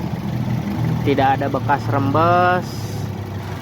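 A 2015 third-generation Toyota Vios engine idles as a steady low hum beneath a person talking close by.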